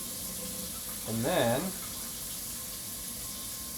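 A kitchen tap runs water for cooking rice, a steady hiss under a brief spoken phrase, heard close and continuous.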